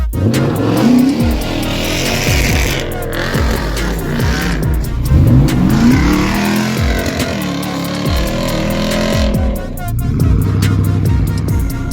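A Toyota 4.7 V8 with a 3-inch straight pipe exhaust revs hard and loud, rising and falling through repeated throttle blips with a raw, rumbling bark close by, sustained over about twelve seconds.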